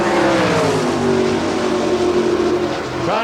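A sprint car, number 17, races around the dirt oval at Belleville, Kansas during an All Stars qualifying lap, its engine a loud, steady, high-pitched roar throughout with no talk over it.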